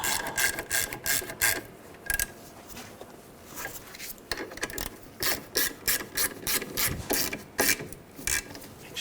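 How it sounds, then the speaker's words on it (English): A hand ratchet clicks in quick bursts while tightening bracket bolts at the rear ABS wheel speed sensor of a 2003-2008 Subaru Forester, close and fairly loud, with short pauses between bursts of rapid pawl clicks. "Tighten these bolts up."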